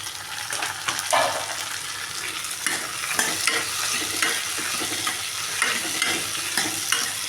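Onions and tomatoes sauté in a pan with a steady sizzle, broken by repeated scraping and clinking as a spoon stirs them, fairly close and without talk.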